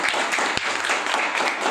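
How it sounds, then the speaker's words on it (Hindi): A short burst of audience clapping at a network marketing meeting: a close, dense patter of hands lasting under two seconds, without speech. "ये बजा दो ताली भाई"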